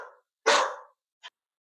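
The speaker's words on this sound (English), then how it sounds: "The dog either agreed with you or disagreed with you." A dog barks once, loud and close, after a short softer yelp, and a brief faint yip follows a moment later.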